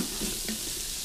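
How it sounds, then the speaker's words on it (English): Onions sautéing for pork chops in an Instant Pot give off a steady, close hiss and sizzle with faint stirring, continuous and alone. "Actually, we're getting a decent saute without like any... Look at it. These are sweating beautifully."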